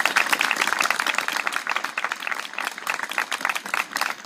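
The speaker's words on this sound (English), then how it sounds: "they deserve a big round of applause themselves" A crowd at a grand opening claps continuously for several seconds, a dense, even patter of hands with no voices on top.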